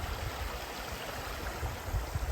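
A creek runs steadily through permafrost country where the land slopes toward it, giving a continuous rushing, gurgling wash of water heard close and alone.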